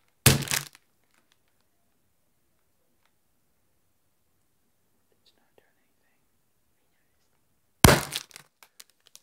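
Two sharp smack-balloon pops, one near the start and one near the end, with hushed whispering between them.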